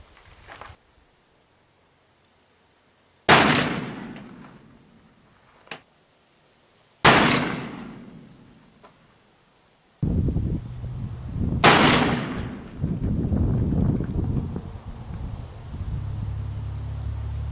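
Three loud, sharp gunshots from an 1851 Pietta .44 caliber brass-frame revolver with plastic grips crack out a few seconds apart, each trailing off in a brief echo, with faint wind and outdoor rustle between and after them.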